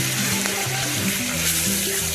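Spices splutter and sizzle in hot oil in a pan for a brinjal biryani gravy, a steady close crackling fry under a low hum, with no talking.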